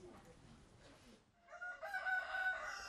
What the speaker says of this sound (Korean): 땅에 구덩이를 파고 자리를 잡은 닭들. 연신 누러대며 바닥에 몸을 비비고 흙을 곳곳으로 뿌려댑니다